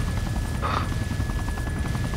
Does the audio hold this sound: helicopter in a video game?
yes